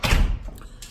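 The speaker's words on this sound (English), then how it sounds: "go ahead and close the door for me, please" A door shuts with a single heavy thump at the start on a 1987 Buick Regal with an LS engine swap, followed by a faint fading rattle, heard alone without talk.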